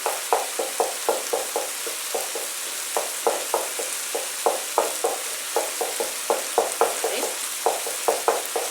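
Garlic fries in oil in a pan, a close steady sizzle punctuated by a regular run of short scraping stirs or taps that recur roughly every third of a second, with no voices.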